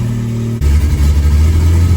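A turbocharged slant six in a 1963 Plymouth Valiant, running a new EFI system, shifts from a lumpy idle to a louder, steadier rumble as it idles up, close and strong, with no talking.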